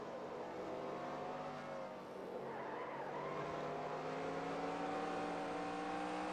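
A NASCAR race car revving through the gears in the video game NASCAR Racing 2003, its engine droning steadily with rising and falling pitch and tire squeal through a corner.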